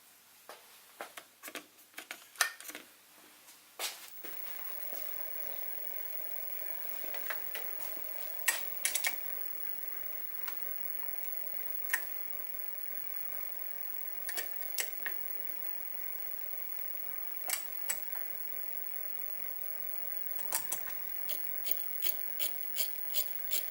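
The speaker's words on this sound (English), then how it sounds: "so I'm going to try using this slitting saw to cut the grooves in the arms" A slitting saw turning at about 150 RPM on a lathe cuts grooves into the arms of a knurling tool kit, giving irregular light ticking and clicking over a faint steady hum, close but quiet, with no talk.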